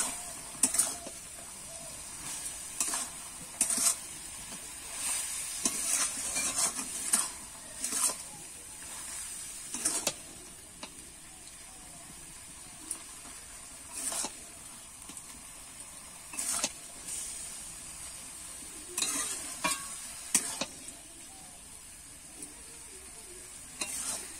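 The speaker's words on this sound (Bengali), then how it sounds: "এবারে কিন্তু ভালো করে আমি নেড়ে চেড়ে নেব।" Bathua greens and mung dal stirred in a pan, repeated scraping strokes of a spoon against the pan over a quiet sizzle, close and irregular, each stroke a short burst, no voices.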